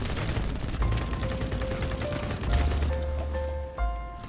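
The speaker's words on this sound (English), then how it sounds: "I'm gonna get up and shoot that sniper when I'm up." Ultimax 100 light machine gun firing in the BattleBit Remastered shooter game, a rapid stream of gunshots running through the whole stretch with swells of louder bursts and some tonal game sounds over it.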